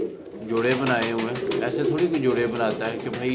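Breeding pigeons coo repeatedly in a loft, with a rhythmic, throaty rolling sound close by, under someone talking.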